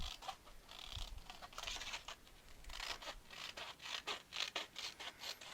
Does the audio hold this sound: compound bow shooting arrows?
no